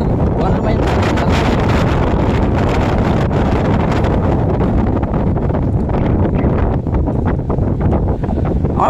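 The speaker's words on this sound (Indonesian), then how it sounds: "Anginnya lumayan besar" Strong wind buffets the microphone at a harbour where a ship is loading supplies before sailing, a loud, constant roaring rumble with gusty fluctuations throughout.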